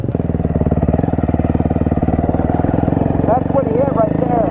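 Dirt bike engine idling steadily with a rapid, even putter throughout, loud and close, while people talk over it.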